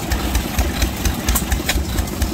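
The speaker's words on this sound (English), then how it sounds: "There's Bob's headless Fairbanks Morris." A headless Fairbanks Morse antique gas engine chugs close by at an outdoor engine show, its low firing beats coming in a steady rhythm about three times a second.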